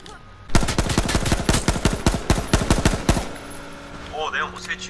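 Rapid automatic gunfire in the video game H1Z1, a fast burst of closely spaced loud shots lasting about three seconds, followed by quieter game sounds.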